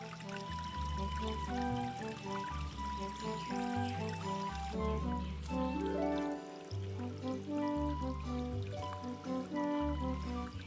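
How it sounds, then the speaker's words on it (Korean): Water flows steadily in a forest stream, a continuous close, moderate rush and trickle that holds evenly throughout with no voices. "이렇게 물소리도 듣고"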